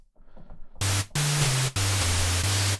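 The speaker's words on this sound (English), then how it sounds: "this is essentially just a white noise generator with different types" White noise from the Arturia MiniFreak synthesizer's noise oscillator, loud bursts of hiss that start and stop abruptly in several chunks, with a low steady tone beneath that shifts pitch, after a faint quiet lead-in.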